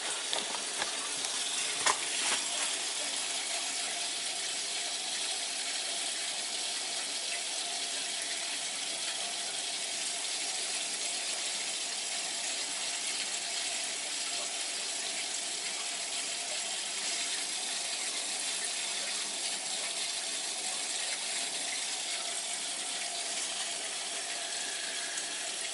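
Water rushing steadily into a home's hydronic heating system, a loud constant hiss and flow lasting the whole stretch, with a few clicks near the start and no talk.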